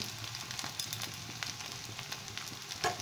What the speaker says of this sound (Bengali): তেলে সাঁতলে নেব তেলটাকে আমি মিডিয়ামে রেখেছি